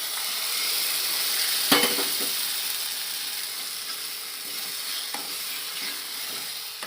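Urad dal hits roasted masala in a hot pan for a village-style udachi aamti, giving a loud, close, continuous sizzle and hiss with a sharp burst near the start and faint stirring knocks later.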